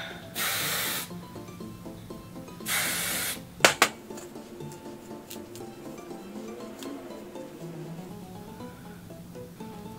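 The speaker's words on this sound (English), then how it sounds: "A recommendation is not getting hairspray in your eyes, but on your mustache" Hairspray sprayed onto a fake mustache: two distinct hissing bursts of about a second each, followed by a couple of sharp clicks and a quiet room with faint background music.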